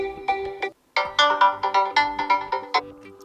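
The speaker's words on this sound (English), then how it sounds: "we can change ringtone" Ringtone melody playing from a Realme 8 phone, a bright repeating tune of rapid tonal notes with a brief pause near the start, clear and close with no talk.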